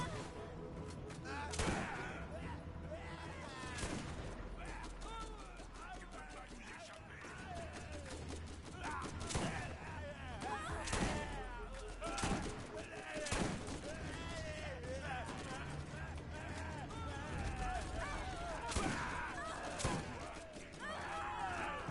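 Gunfire from the video game Borderlands 1, sharp repeated shots and bursts mixed with game effects while players talk over it throughout.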